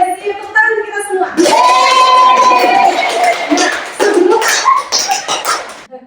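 A classroom of students claps together, loud and close, with a burst of collective clapping mixed with shouting and cheering voices that swells, holds and then breaks into scattered claps and chatter.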